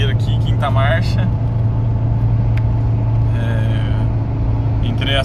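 A car engine pulls hard at full throttle in fifth gear up a hill, a loud, steady low drone and rumble from inside the cabin, with someone talking over it.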